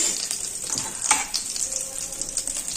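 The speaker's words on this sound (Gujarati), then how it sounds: "હવે પેનમાં આપણે ઘી ગરમ કરવા માટે રાખી દેશું" Two spoonfuls of ghee heat in a pan for gajar halwa, giving a steady close sizzle with faint crackles and a soft scrape or two, no voices.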